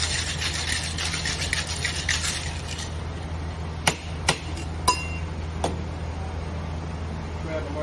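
Ice and lime juice rattle inside a cocktail shaker in a quick, close, shaken burst lasting a few seconds, followed by a few sharp clinks over a steady room hum.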